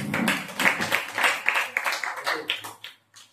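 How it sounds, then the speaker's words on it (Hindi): Audience clapping at a Wednesday church service, a burst of many hands applauding in a loud, irregular patter that thins out and stops near the end, with a few scattered claps after. "ताली बजा"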